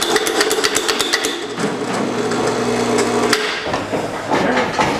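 Steel drift pins hammered in to line up a 1949 Chevrolet gasser body on its frame, sharp metallic strikes coming in quick rhythmic bursts, loud and close, with a pause and a few more blows after.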